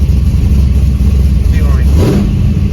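Chevrolet C10 truck engine idling steadily with a low continuous rumble after an air-fuel ratio gauge install, a brief rev swell midway, with a voice speaking over it.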